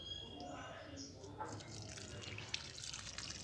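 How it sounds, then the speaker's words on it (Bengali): Water trickles and splashes steadily as it is poured onto a potted land lotus plant, a continuous close liquid sound with no talk. "এবার আমরা দেবো জল।"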